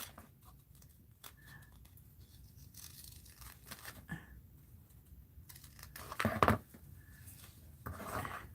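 Tape being torn and handled for a fabric art journal, with scattered rips and crinkles across a quiet room and one louder, sharper tear near the end.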